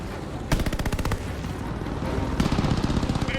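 Machine gun fire in the video game Call of Duty Vanguard comes as two loud, rapid bursts of rattling shots close by, with a rumbling battle backdrop between them.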